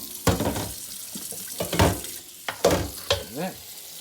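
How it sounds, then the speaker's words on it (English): Tap water splashing in a sink as cooked food is rinsed and cooled for a bacon goulash, in short, uneven bursts of spatter and clatter close by. "We can actually rinse these or rinse them."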